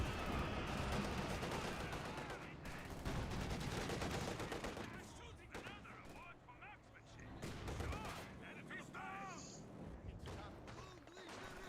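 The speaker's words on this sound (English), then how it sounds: "the Panzer IV's already opening fire" A Panzer IV tank opens fire during a WWII video game battle, with dense, continuous gunfire and explosions rolling loudly throughout and a voice talking over the din.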